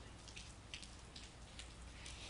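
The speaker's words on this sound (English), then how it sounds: "we have got a steady rain, and it's been raining just pretty much all day" Steady rain falling all day, a soft continuous wash of patter with scattered brighter drops, fairly faint and even throughout with no talk.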